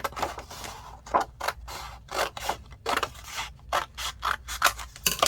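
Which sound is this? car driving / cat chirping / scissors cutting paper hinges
scissors cutting paper hinges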